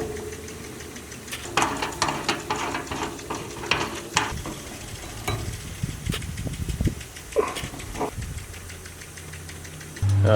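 Hand wrench tightening a cap fitting onto the bottom nipple of a fuel cell in a 1965 Ford Mustang, with a run of close metallic ratcheting clicks and taps over a steady background hum.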